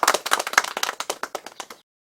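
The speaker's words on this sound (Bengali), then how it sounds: "এই হাততালি দে, হাততালি দে।" Close clapping from a small group of people welcoming a guest, a quick run of sharp, uneven claps that slows and weakens before stopping abruptly into silence.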